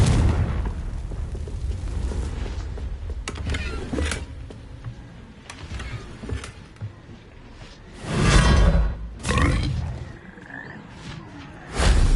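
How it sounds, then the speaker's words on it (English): In a video game, a Confringo blasting spell hits rocks, and they blow apart in bursts of whooshes and booming explosions. Two heavy blasts stand out near the end, with fainter crackling impacts between them. "These rocks have seen better days. Confringo!"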